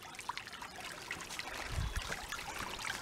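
A shallow creek trickles and babbles over river stones, a soft, steady outdoor flow with small splashes and a brief low thump midway.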